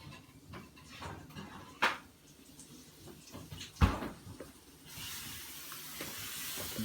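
Chicken just pulled from the oven sizzles with a soft, steady hiss that swells into a louder, continuous frying crackle toward the end, broken by a couple of sharp pan or oven-door knocks.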